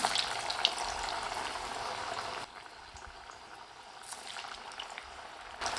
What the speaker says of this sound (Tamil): கொஞ்சம் சலசலப்பெலாம் அடங்கி லேசாக செவந்து வந்த பிறகு தான் திருப்பி விடணும்